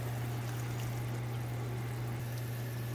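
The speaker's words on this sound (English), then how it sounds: "A little more pasta water if you need it." Starchy pasta water pours into a hot pan, making a continuous gentle trickling hiss with a steady low hum beneath, quiet and unbroken for a few seconds, with no voices.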